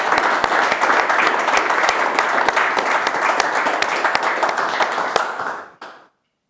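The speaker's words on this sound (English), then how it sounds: "But let's take a moment to give a round of applause for Raipoia Brightwell." Audience applause at a sporting excellence awards ceremony: steady, dense clapping fills the room for about five seconds, then drops away quickly and ends in silence.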